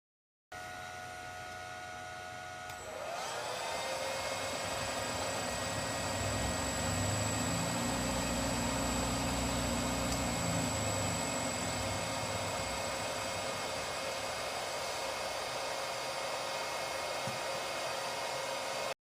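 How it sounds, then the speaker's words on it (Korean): An electric motor driven by a PowerFlex 755 inverter spins up and runs at 30 Hz, a steady whining hum with broadband whir that holds constant for over fifteen seconds with no talk. "그럼 모터를 지정된 속도 30Hz로 가동시켜 보겠습니다."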